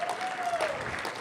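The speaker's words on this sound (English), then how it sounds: "Give her a big round of applause" Applause for a deputy mayor at a city commissioners' swearing-in ceremony, a brief steady burst of clapping from an indoor audience with a faint tone running through it.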